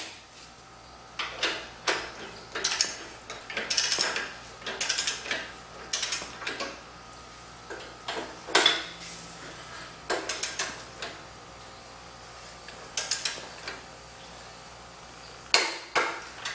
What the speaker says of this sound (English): The torque wrench will snap, you'll hear it and feel it